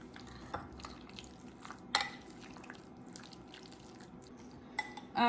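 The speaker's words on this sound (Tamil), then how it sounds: "இதை போட்டு மிக்ஸ் பண்ணிவிட்டு" Chicken wrap ingredients are mixed in a bowl, giving a quiet, wet stirring sound broken by a few sharp clinks of utensil against the dish.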